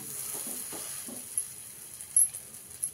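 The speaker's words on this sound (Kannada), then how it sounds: "ಇವಾಗ ನಾನು ತವಾದ ಮೇಲೆ ಹಾಕ್ತಾಯಿದ್ದೀನಿ" An aloo bread sandwich sizzles on a hot tawa in a soft, steady hiss, with a few sharp clicks and pops rising above it near the end.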